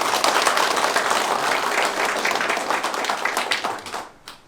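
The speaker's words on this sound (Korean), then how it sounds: "환영의 박수 부탁드리겠습니다" Welcoming applause from a crowd at a gubernatorial preliminary candidate's campaign office opening ceremony, dense steady clapping that continues throughout and tapers off near the end.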